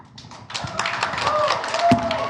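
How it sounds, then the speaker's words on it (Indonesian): Scattered applause breaks out from an audience in a courtroom hearing, light uneven clapping that builds and continues over background voices. "Jangan ditepuk tangan ya."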